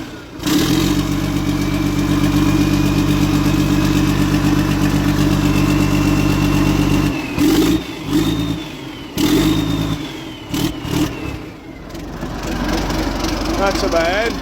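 A cold engine idles steadily and is gently blipped a few times, its pitch rising briefly before settling, with a person talking nearby.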